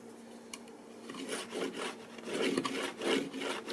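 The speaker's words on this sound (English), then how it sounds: "I think I am going to scrape this one by one more time" Wood being scraped by hand for a movie display build, with repeated rasping strokes that rise and fall in a steady back-and-forth rhythm, close and moderately loud, with no talking.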